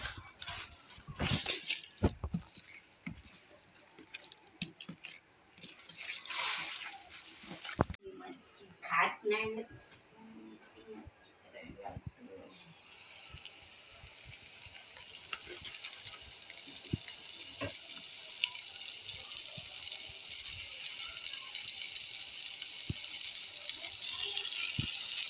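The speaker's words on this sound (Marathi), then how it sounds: "आता हे बोंबील आपण फ्राय करतोय." Bombil, Bombay duck fish coated in semolina, frying in a pan, a steady hiss and sizzle that builds and holds in the second half after clattering handling noises, with a person talking throughout.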